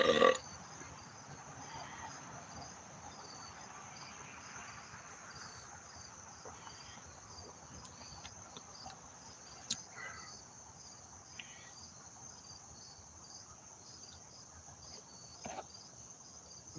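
Crickets chirp at night in a steady, continuous high trill, moderately faint, with a few small clicks and bumps scattered through and no clear speech.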